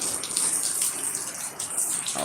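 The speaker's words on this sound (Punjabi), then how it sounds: "ਪਿੰਡਾਂ ਜਾ ਦੇਖੋ ਮੀਂਹ ਪੈਣਾ ਪੈਂਦਾ ਐਂ" Steady rain hisses and patters continuously over a village, a dense wash of falling water with no voices.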